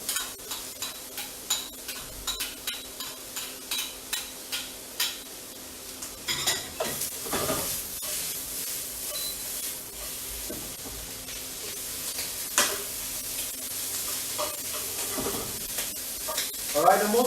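Bacon frying in a pan for an Asian-style creamy spaghetti carbonara, with a steady close sizzle after a run of rhythmic stirring scrapes and clinks, plus occasional louder utensil knocks and pops.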